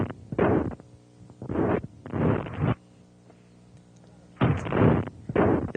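A long-barreled .44 hunting handgun fires in several loud, sharp broadband blasts, spaced irregularly with short decays between shots, heard alone outdoors.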